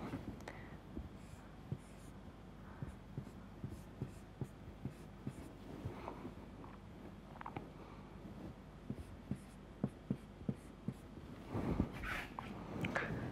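Writing on a board during a math lecture on eigenvalues, as a faint series of scratchy taps and strokes with a quiet room background.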